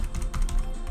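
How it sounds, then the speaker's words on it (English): Quick clicks of an arrow key on a computer keyboard, a short run of close, crisp taps in rapid succession with nothing else around them. "you just keep clicking the right arrow on your keyboard till the setting set up"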